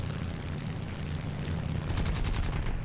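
Aircraft guns firing in the War Thunder flight game, an A6M3 Model 22 shooting at a P-51, with rapid bursts over a constant engine roar that swell near the end, no talk.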